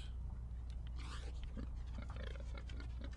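Ghost pigs in The Secret of Monkey Island: Special Edition video game grunt and snort in short, scattered bursts, fairly quiet, with no talking.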